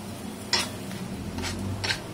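Coli-style stuffing masala for pomfret fries in oil in a pan, giving a soft close sizzle broken by three brief scraping stirs, with no talk.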